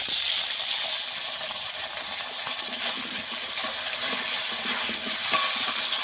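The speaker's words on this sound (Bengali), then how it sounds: "লবণ দিয়ে আলুটাকে আমি একটু ভেজে নেব।" Diced potato fries with salt in hot oil, with panch phoron and black cumin already in the pan, giving a steady, close, continuous sizzle that holds evenly for the whole stretch with no talking.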